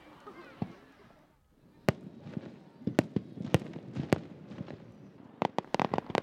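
Fireworks at the Takahama summer fireworks festival on the beach in Takahama, Fukui, with a string of sharp booming bursts and crackles, sparse at first and then coming in a rapid cluster near the end, heard from a distance.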